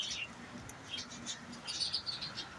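A small bird gives faint, short chirping calls in a quiet outdoor spot, a few high notes scattered over soft background noise.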